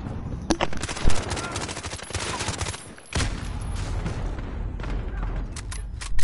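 Rapid gunfire from a Call of Duty: Modern Warfare match, dense bursts of automatic shots through most of the stretch with a brief lull midway and a sharp shot at the very end.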